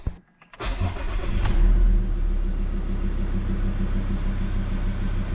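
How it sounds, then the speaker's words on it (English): A Mazda BT-50 or Ford Ranger engine cranks briefly and catches after an oil change, then settles into a steady, close idle rumble. "now it's time to fire it up until the engine oil light goes out"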